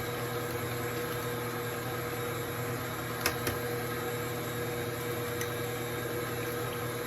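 Steady electric mixer drone beating eggs into lemon zest cream cheese pound cake batter, a continuous close whir with a couple of brief clicks partway through.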